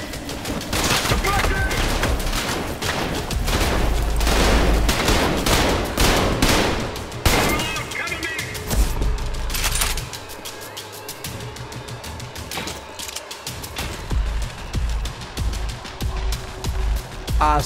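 Rapid video game gunfire, dense bursts of automatic shots crackling in quick succession for several seconds, then thinning into scattered shots with a voice occasionally heard.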